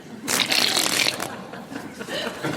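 A magician shuffling a deck of playing cards: a quick, papery riffle burst, close and moderately loud, followed by softer rustling.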